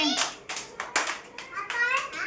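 A group of young children claps hands during a preschool shape game, with a few loose, uneven bursts of claps mixed with children's voices and chatter close by.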